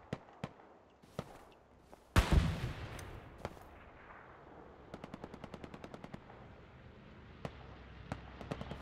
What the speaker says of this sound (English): bombing run incoming west bend, so you can push